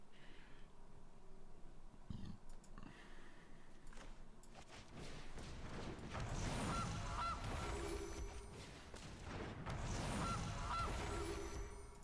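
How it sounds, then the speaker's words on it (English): A goose honks in the MTG Arena card game, loud bursts of honking and flapping swelling twice over a faint background of game sounds. "Get busy honking."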